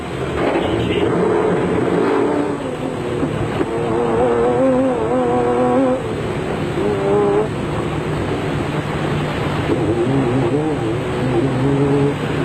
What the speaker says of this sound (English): Now you're on board with Woolridge and Skolthammer in the Team Ford Racing Ranger as they pick up a puncture.